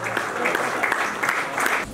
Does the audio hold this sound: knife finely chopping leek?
no